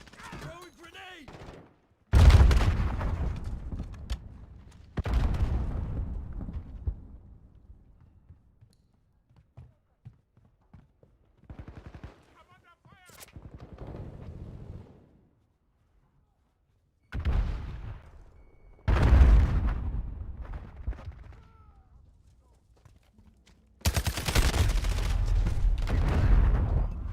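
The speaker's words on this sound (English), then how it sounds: "Throwing grenade." Call of Duty: Modern Warfare grenade blasts and gunfire, loud booming explosions and short bursts of shots spaced out between quieter stretches, with voice chat heard between them.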